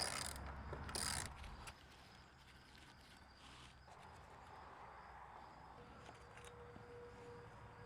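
A ratchet loosens bolts on the water pump of a Mercury 60HP outboard motor, giving a brief close burst of clicking at the start before a faint, steady background hum takes over.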